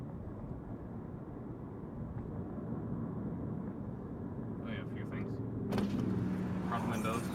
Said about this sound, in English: Front windows go all the way down.